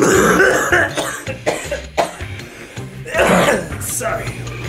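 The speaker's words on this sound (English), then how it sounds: "Sorry, we cough." Several people coughing and clearing their throats in rough, irregular bursts over about five seconds, close and fairly loud, with voices mixed in.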